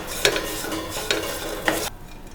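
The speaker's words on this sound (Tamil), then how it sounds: "ஒரு 2 நிமிஷம் கலக்கி விடுங்க." Pepper idly made with idli pieces and coriander leaves is stirred in a pan, three distinct scraping strokes with a light sizzle underneath, stopping abruptly near the end.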